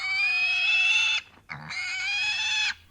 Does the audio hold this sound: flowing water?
no